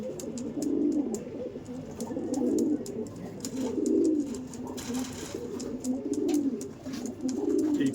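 Andhra pigeons in a loft coo in repeated low, throaty rolls about once every second and a half, close and fairly soft, with faint clicks and rustles between the calls.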